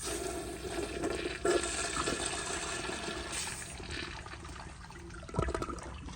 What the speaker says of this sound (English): If I let it flush for a few seconds and turn the water off, it actually siphons, and I'll demonstrate that now